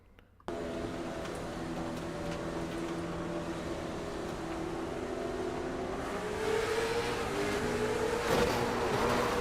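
Late model race car at Hickory Motor Speedway, engine droning steadily and then climbing in pitch as it revs on a restart, loud and continuous with no talk over it.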